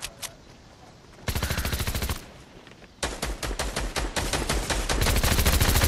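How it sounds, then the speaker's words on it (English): Rapid automatic gunfire in the video game Fortnite during a duos match, loud and close, in one short burst followed by a longer sustained volley with steady rhythmic shots. "Oh, we're getting shot at."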